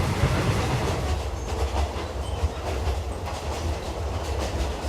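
A passenger train bound for Kanchanaburi in Thailand runs steadily along the rails, its wheels clattering in a continuous rhythmic clickety-clack with a low rumble, close and loud throughout with no talk.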